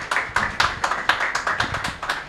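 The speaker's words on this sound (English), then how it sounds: "Please give a round of applause" Applause from an audience welcoming the director at an SS Pro Educare exemption party, several people clapping with bursty, uneven bursts of claps that swell and fade over a couple of seconds, close and moderately loud.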